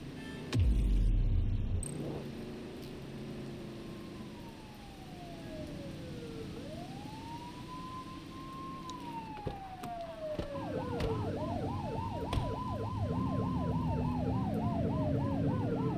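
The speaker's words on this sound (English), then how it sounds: "You're only meant to use the siren in emergencies." Synthetic police sirens in the video game The Precinct wail and yelp in rising and falling sweeps over a steady engine drone, with electronic game-style tones and a low thump near the start.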